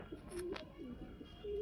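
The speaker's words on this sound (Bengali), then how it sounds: "এটা কি নর পায়রা তাই তো? নর পায়রা এটা।" A male pigeon coos softly in a few brief, low murmured calls over a quiet room background.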